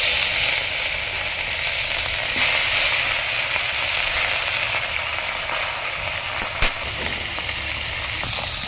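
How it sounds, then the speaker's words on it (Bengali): Fish fries in hot oil in a wok, a loud, continuous close sizzle with one brief clack partway through and no voices. "কড়াই গরম হয়ে গেছে। এবার মাছ দিয়ে দেবো।"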